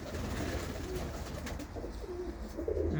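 Racing pigeons coo softly nearby, low throaty burbling calls repeating over a murmur of background noise in a loft in Sheffield.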